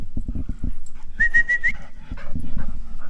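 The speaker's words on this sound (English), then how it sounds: "What are you crazy dogs doing?" Dogs at play make close high whines and whimpers, with a drawn-out whistle-like whine, over bursts of scuffling, thumping movement and panting, loud and near without speech.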